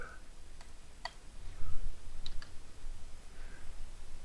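A few sharp mouse clicks land close together near the start, then two more a moment later, all small and crisp over quiet room hiss while call handling settings are set in software.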